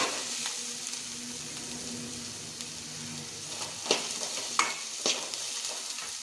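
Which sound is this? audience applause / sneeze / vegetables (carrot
vegetables (carrot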